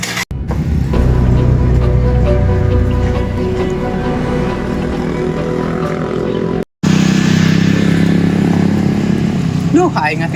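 A big motorcycle engine rumbles loudly and steadily nearby, with a brief dropout partway through, under people talking.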